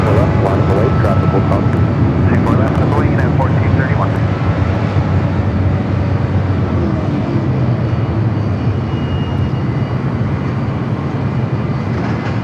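A jet airliner roars on its takeoff run from the north side at LAX, a loud, steady, broad engine rumble that fills the whole stretch, heard from a distance across the airfield.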